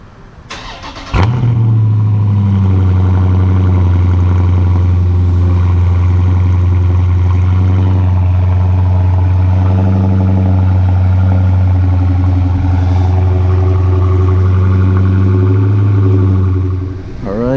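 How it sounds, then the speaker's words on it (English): A Dodge Charger Scat Pack on its stock exhaust fires up from a cold start with a sharp crank and burst, then settles into a loud, deep, steady idle rumble up close for about fifteen seconds before fading slightly. "This is how the stock exhaust sounds."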